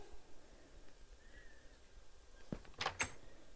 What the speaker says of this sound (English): Maybe I should just chop down this door.